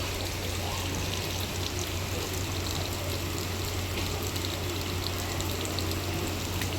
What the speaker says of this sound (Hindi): अभी बारिश लगी हुई है